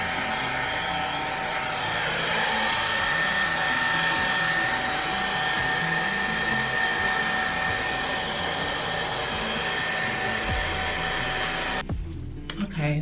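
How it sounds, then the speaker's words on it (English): A hair dryer runs steadily close by, blow-drying hair after a protein treatment, a loud continuous whooshing drone that holds for about twelve seconds before being switched off near the end. "you just blow dry it until it's really hard."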